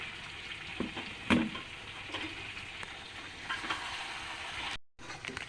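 Garlic and ginger paste sizzles and fries in a pan while being stirred, with a steady close hiss and occasional scraping, briefly cut to silence near the end.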